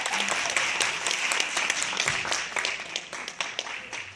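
A live audience applauds steadily after a spoken-word performance at a college event, a dense wash of many hands clapping at close range with scattered louder individual claps.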